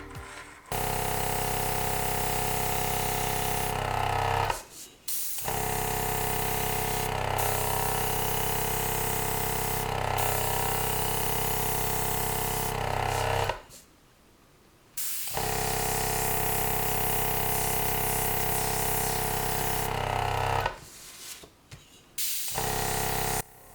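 A Fengda mini airbrush sprays at the lowest compressor pressure in long steady hissing bursts broken by brief pauses, while the compressor on the table hums constantly beneath.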